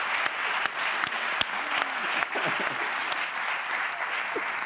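Studio audience applause on a Spanish late-night talk show, steady and dense throughout with a few sharper claps standing out, while a brief voice murmurs faintly beneath.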